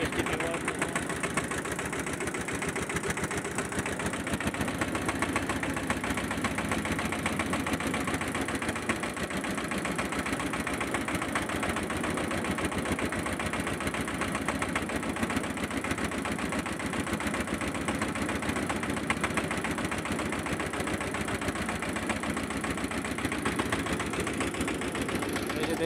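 A motorboat engine runs steadily on the river close to the Teesta Barrage, a loud, unbroken near drone holding for the whole stretch, with faint voices mixed in.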